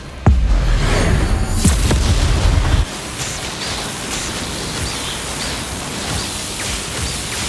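An explosive curse spell in the Hogwarts Legacy video game bursts with a loud boom and roaring blast, lasting a few seconds before dropping to a softer, hissing rumble.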